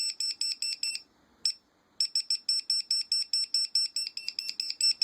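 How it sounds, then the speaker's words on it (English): A Dronekeeper mini2 over-voltage detection alarm blares close and loud, a rapid, insistent train of shrill electronic beeps that pauses briefly once before resuming at a steady fast pulse. "Over voltage detection alarm."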